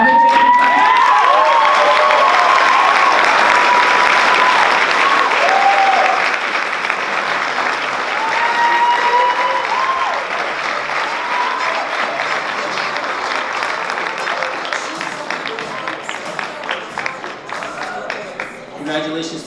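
Sustained crowd applause for youth of the year candidates, loud and dense clapping with scattered cheers and shouts, slowly thinning toward the end.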